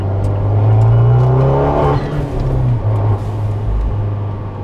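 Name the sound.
Fiat 124 Spider with stage 2 tune driven casually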